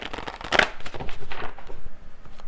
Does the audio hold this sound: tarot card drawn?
yes